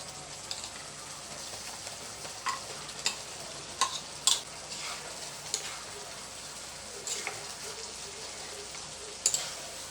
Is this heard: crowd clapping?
no